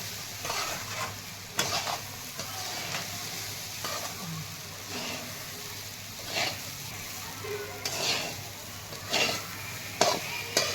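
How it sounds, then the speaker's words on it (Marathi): Leftover bhakri pieces frying and being tossed in a pan, a continuous close sizzle broken by repeated scraping stirs of a spatula against the metal, with no voices. "आता यामध्ये तुकडे टाकून घेत आहे बारीक तुकडे टाकून आहे गॅस करून परतून घ्यायचे आहे"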